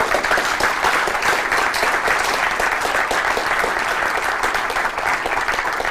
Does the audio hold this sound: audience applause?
yes